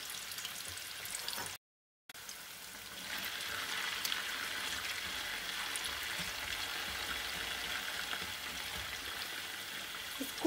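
Potato fries frying in oil over medium heat, a steady soft sizzle and crackle throughout with a brief gap of silence early on.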